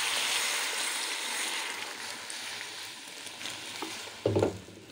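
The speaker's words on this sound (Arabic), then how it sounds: "انا اديتها تشويحه من فوق ومن تحت كده تمام" Ingredients for mahshi sizzle and hiss as they are sautéed and stirred in a pot, a steady close frying crackle that fades slightly before a brief louder clatter near the end.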